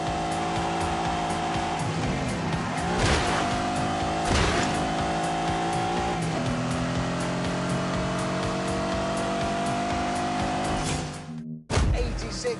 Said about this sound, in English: roared into life. Oh, an angry Countach!